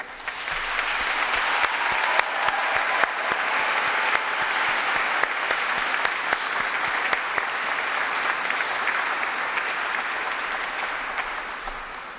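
Sustained, dense applause from a large crowd at a King's College London graduation ceremony fills a hall evenly and loudly for about twelve seconds, with no talk over it.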